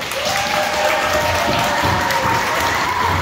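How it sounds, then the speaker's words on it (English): Dense, loud applause from an audience at a Junior Achievement Shark Tank competition, a continuous wash of many hands clapping with some cheering mixed in. "So give yourself a big round of applause"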